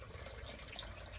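Kava is poured through a strainer into a shell at a kava bar, a faint, soft trickle of liquid with a low background hum and no talking.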